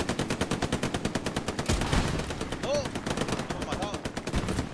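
Rapid machine gun fire in the World War II shooter Hell Let Loose, a steady close burst of regular rhythmic shots running the whole stretch with a brief heavier blast midway.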